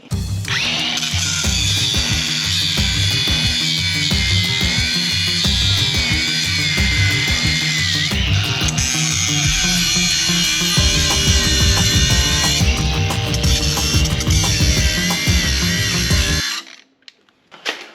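A battery-powered cutting tool slices welded brackets off a vehicle frame, a loud, steady grinding whine running for about sixteen seconds with shifts in pitch as the cut bites, then cutting out abruptly.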